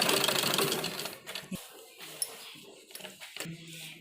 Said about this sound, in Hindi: और यहाँ तक हमें सिलाई लगानी है इसमें।